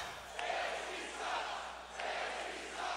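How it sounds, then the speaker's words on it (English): Boisterous crowd at a political rally in Grand Rapids, waves of distant cheering and shouting that rise and fall in bursts, heard faint and far off. "The boisterous crowd there in Grand Rapids"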